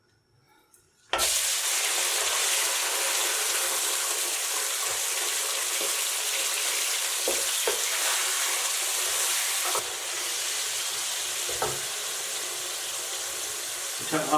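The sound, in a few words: chicken frying in oil in a kadai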